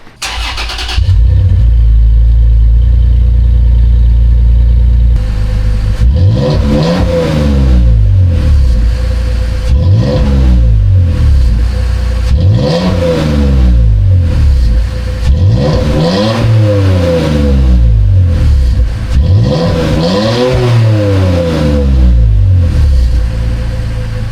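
Toyota TRD Pro truck with an MBRP turn-down exhaust idles with a steady low rumble, then revs up in five or six repeated throttle blips that rise and fall loudly, with no talking.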